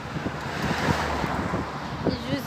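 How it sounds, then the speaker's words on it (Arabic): Strong wind outdoors in open countryside at Sidi Harazem, a dense, constant rushing roar that buffets the microphone for the whole stretch, with a voice faintly underneath. "كاين الريح بزاف"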